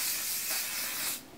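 Hairspray hisses from an aerosol can aimed at the hair roots in one soft, continuous burst of about a second before cutting off.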